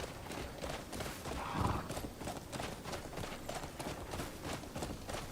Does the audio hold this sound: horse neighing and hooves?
yes